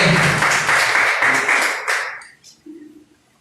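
A church congregation claps loudly for about two seconds, the applause thinning and fading out, followed by a short spoken voice in the quiet.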